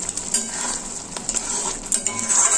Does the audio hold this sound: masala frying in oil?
yes